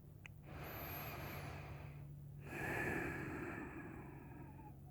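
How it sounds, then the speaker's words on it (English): Soft, slow breaths drawn in and let out close to the mic in a quiet, intimate sleep-relaxation setting, a long airy exhale followed by a fuller inhale over low steady hiss. "Gentle breathing."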